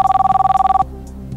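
A telephone rings during a French television broadcast, a bright electronic warble pulsing in rapid repetition for just under a second before cutting off, leaving quiet room tone.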